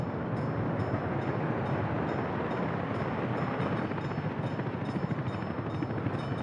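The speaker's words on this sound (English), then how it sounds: "Oh, we've got trains everywhere." Trains in the city-building game Workers & Resources, heard as a steady, continuous rumble that holds at an even level throughout, with no voices.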